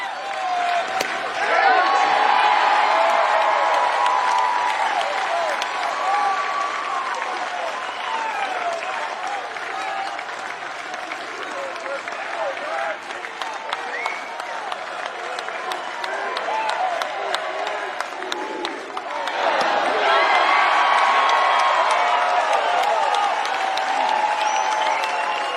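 Fans at a 2019 NCAA baseball tournament game between UConn and Oklahoma State roar and applaud continuously in a large outdoor stadium, swelling again loudly near the end.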